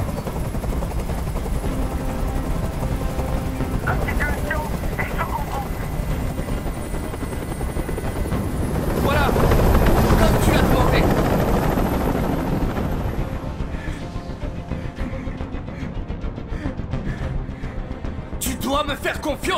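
A helicopter's rotor thrums loudly and continuously in a hostage standoff scene in the video game Detroit: Become Human, swelling as it passes close, with bursts of gunfire and voices beneath the engine noise.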